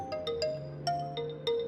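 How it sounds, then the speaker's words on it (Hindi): A phone ringtone plays early in the morning in a home, a bright electronic melody of repeating tonal notes in a steady pattern, loud and close with no talk over it. "ये सुबह सुबह किसका फोन आ गया?"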